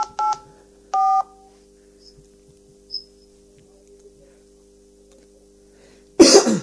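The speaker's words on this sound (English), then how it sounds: "Please enter the full phone number you'd like to talk about." Two short touch-tone keypad beeps ring out loud and clear near the start, entering a phone number on an automated call line, with a faint steady hum underneath and a burst of noise at the end.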